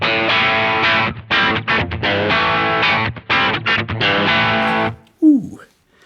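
A MayFly Creamsicle Overdrive pedal with gain at noon gives gritty overdriven electric guitar chords in bursts with short gaps, then the notes cut out, leaving a brief sliding tone and a trail of hiss.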